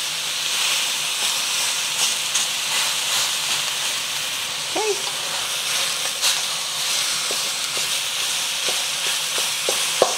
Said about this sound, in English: I'm just gonna let that beef kind of sear there for about 1 minute